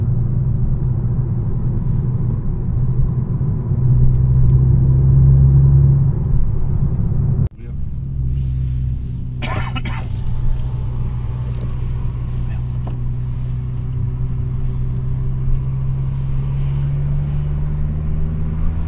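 Volkswagen Golf 6 GTI engine and exhaust, a loud low rumble that rises in pitch under acceleration, then a sharp break and a crackling burst before the engine resumes droning; people talk over it.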